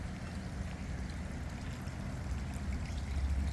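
A water fountain built from rock in a Japanese rock garden, its steady splashing and trickling flow running continuously and fairly close, with no voices over it.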